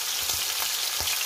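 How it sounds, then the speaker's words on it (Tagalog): Garlic, onion and tomato sautéing in a hot pan give a steady close sizzle for about a second, with a few soft stirring bumps and no voices. "igisa sa bawang sibuyas"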